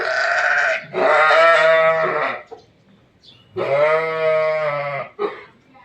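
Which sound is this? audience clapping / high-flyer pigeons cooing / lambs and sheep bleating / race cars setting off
lambs and sheep bleating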